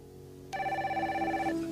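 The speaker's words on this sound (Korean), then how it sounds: "갑자기 사무실에 울리는 전화벨 소리" A telephone rings in an office, a bright electronic tone that cuts in after a brief quiet moment and holds steadily, fairly close and clear, for about a second.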